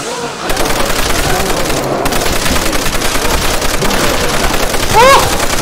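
Browning machine gun in Call of Duty World at War Zombies fires a loud, continuous rapid burst of shots with a fast even rhythm, close and dominant throughout, with a brief gap near the start.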